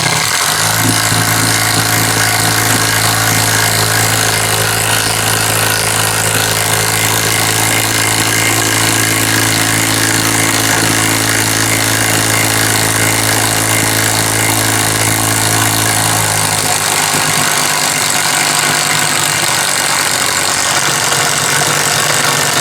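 A Hanabi impact drill driver bores into a workpiece, its motor spinning down under load while hammering impacts rattle steadily and loudly throughout, the drive note shifting lower near the end.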